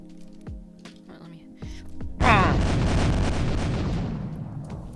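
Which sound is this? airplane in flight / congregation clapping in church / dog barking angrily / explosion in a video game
explosion in a video game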